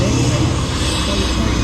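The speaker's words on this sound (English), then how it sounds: "B-17" Steady propeller-engine drone of a B-17 bomber at the Avalon Australian International Airshow, a loud continuous roar with broadband wash and no clear breaks, voices murmuring underneath.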